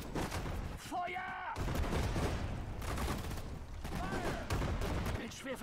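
Gunfire in the video game Sudden Strike 4 rattles in dense bursts of rifle and machine-gun shots throughout, mixed with battle noise and brief voice calls from units.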